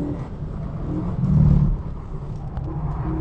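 A Renaultsport Megane's engine drones steadily on a race track, swelling briefly as it accelerates and shifts up into fourth gear, loud and close throughout.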